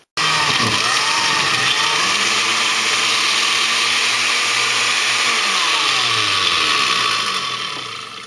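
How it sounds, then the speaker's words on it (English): A blender blending fruit and vegetables runs loud and steady, its motor whirring continuously with shifting pitch as the contents churn, then beginning to wind down near the end. "we're going to see if the blender will run"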